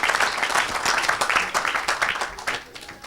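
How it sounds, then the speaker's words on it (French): A congregation at a live church service claps loudly and cheers, a dense, continuous wash of applause with rhythmic pulses, close and energetic throughout. "acclame plus fort que ça"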